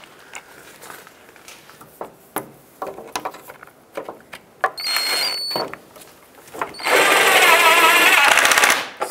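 Water pump bolts being tightened on a 2003-09 Toyota 4Runner: scattered metallic clicks and ratchet taps, then two sustained bursts of loud rapid ratcheting, the last lasting about two seconds.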